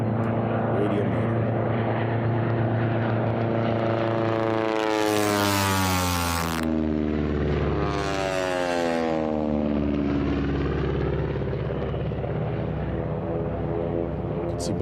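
T6 aircraft with radial engines racing around a drag race course, a loud continuous propeller drone whose pitch sweeps down and then up again as one aircraft passes close by, with another engine sustained underneath.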